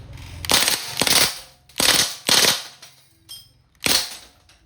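A DPMS Panther Arms SBR airgun rifle fires a series of sharp, loud cracks in an uneven rhythm, about five shots spread across a few seconds, with mechanical clicking between them.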